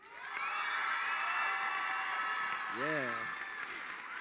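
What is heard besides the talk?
audience applauding and cheering for a judge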